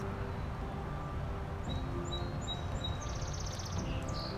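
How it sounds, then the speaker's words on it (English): Birds chirping in short, high tweets scattered over a steady low background rumble during a nature walk, the calls modest in level and coming from a little distance. "It's wonderful listening to beautiful birds sing."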